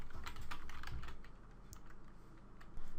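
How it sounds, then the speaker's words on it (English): Fingers type a username and password on a computer keyboard: quick, irregular clicking taps at close range, slowing midway and then picking up again, with no speech. "This can be done by simply typing in a username and a password"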